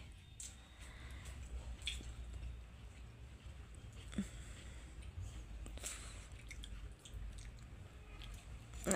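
A young boy chews biscuits up close with soft, wet, crunchy bites and squishy mouth sounds, quiet and irregular against low background noise.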